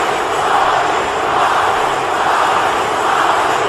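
A dense arena crowd roars and cheers continuously in the WWE 2K18 wrestling video game during a King of the Ring match, a loud steady wash of voices that swells slightly in waves, with no commentary heard.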